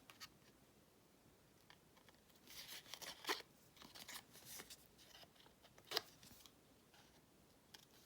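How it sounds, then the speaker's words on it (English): Scissors cut paper by hand for a journal craft, making a quiet run of irregular snips and crunchy paper rustles with a few sharper cuts, close by and without talk. "So we're gonna cut out by hand and hope for the best."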